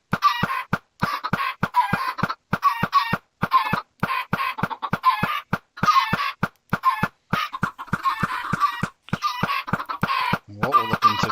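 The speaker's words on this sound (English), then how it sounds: "now you can see that we're starting to get chickens inside here." Chickens cluck over and over inside a Minecraft enclosure, loud and close, in quick repeated bursts with brief gaps, several birds overlapping.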